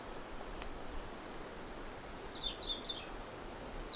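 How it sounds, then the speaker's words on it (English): Faint, high bird chirps and trills sound in the distance in a forest near the Aegean Sea, over a soft, airy outdoor hush. "These sounds from the birds are now very different from the sounds we have in May and June."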